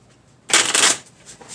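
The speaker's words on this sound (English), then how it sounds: "I'm going to shuffle." A stack of playing cards is shuffled once in a quick, loud riffle of about half a second, followed by a few faint soft card taps in a quiet room.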